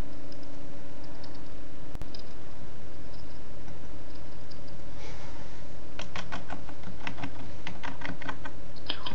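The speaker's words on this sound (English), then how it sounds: "I don't know, Jay, are you typing?" Keys tapped on a computer keyboard in quick uneven bursts, growing busier toward the end over a steady background hum.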